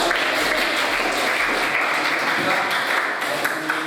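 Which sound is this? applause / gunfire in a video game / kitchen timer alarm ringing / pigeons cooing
applause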